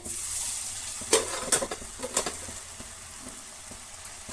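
Ragi chakli dough fries in hot oil with a steady close sizzle, broken by a few sharp crackles and stirring clinks, with no one speaking.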